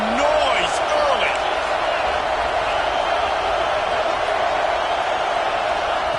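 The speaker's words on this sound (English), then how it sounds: "This crowd bringing the energy and noise early." Stadium crowd noise from the College Football 26 video game: a steady, dense roar that holds at an even level throughout, with a brief voice near the start.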